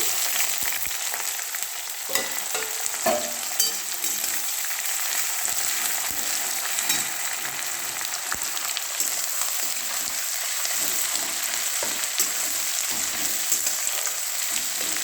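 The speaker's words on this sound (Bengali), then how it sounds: "পেঁয়াজটা ভাজা হোক, ফ্রাই।" Chopped onions fry in a pan with chillies, cinnamon and bay leaves as the base for chicken biryani, giving a steady, close, continuous sizzle with small crackles and no voices.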